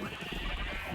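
A sheep bleats in Minecraft, a short wavering cry held for about a second at close range, with no talk over it.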